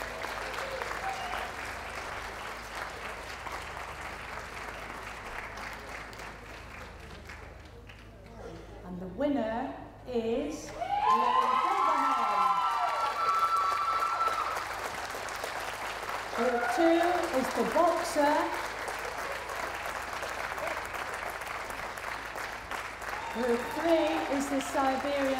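Crowd applause rings out around a dog show ring at a championship show as dogs and handlers leave, steady clapping through most of the stretch, with a voice speaking over it midway and the applause swelling again.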